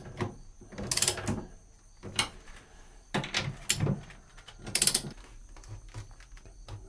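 Torque wrench tightening the eight gimbal housing bolts on a Mercury Bravo transom assembly to 25 foot-pounds, heard as several separate bursts of ratcheting clicks with short pauses between them, at moderate loudness and close by.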